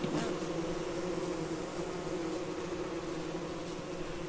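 A steady, loud buzzing of a swarm of killer bees in the video game Don't Starve, a continuous droning hum that holds without pause throughout.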